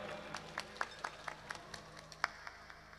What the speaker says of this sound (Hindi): थोड़ी थोड़ी ताली पाड़ो